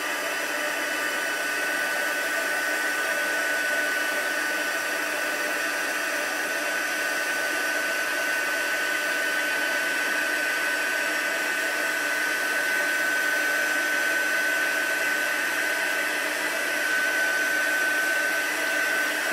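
Heat gun blowing hot air onto glittery craft paste for a frosty house decoration, a steady loud whooshing hum that holds unchanged from start to finish, up close and with no talking.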